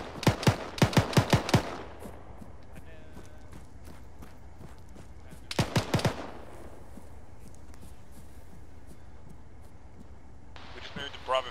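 Gunfire in a military video game played as a squad: a rapid burst of about six loud, close shots, a pause, then another tight cluster of three or four, with faint radio chatter near the end.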